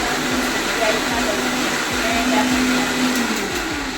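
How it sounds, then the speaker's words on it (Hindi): A mixer grinder blending ginger and onion runs as a loud, steady motor whine with a constant hum underneath, continuous for the whole stretch with no speech. "आपने देखा कितना जल्दी मेरा अदरक और प्याज पिस गया।"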